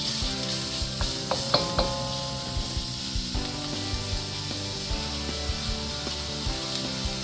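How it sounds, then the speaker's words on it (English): Shrimp for yakisoba sizzle steadily in a hot frying pan, a constant loud hiss with occasional clinks and scrapes of a utensil stirring. "Listen to that sizzle."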